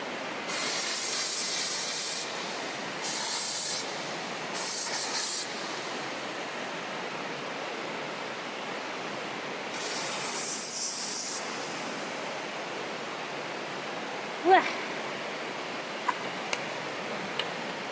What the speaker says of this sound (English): Dry shampoo.